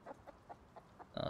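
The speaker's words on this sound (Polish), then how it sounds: "Słyszę kurę." A chicken in the video game Rust clucks in short, soft bursts spaced evenly apart, ending with a louder, sharper squawk.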